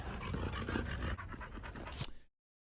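A dog pants rapidly and steadily at close range, a breathy rhythmic huffing with a faint whimper, before cutting off abruptly.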